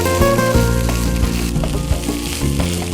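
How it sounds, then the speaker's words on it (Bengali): Cooked rice frying in ghee in a pan, a steady close sizzle that runs without a break and has no talk over it. "আমরা জাস্ট একটু ঘি দিয়ে ভালো করে ভেজে নিলাম।"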